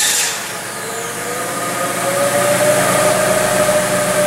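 A car engine is started for a misfire test and then settles into a steady running drone whose pitch slowly rises, heard up close and alone without any talk.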